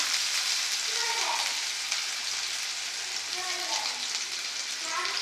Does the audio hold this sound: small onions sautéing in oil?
yes